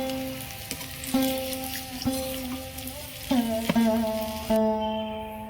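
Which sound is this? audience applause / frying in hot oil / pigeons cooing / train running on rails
frying in hot oil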